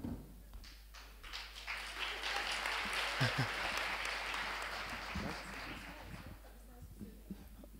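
Broad, sustained clapping from an audience rises and holds for several seconds before tapering, with scattered individual claps and a few voices underneath.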